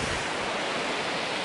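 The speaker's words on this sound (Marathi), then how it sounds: "ही नदी एकदम जबरदस्त वाटते" A swollen monsoon river at Tamhini Ghat rushing close by, a steady, powerful roar of churning water with no voices.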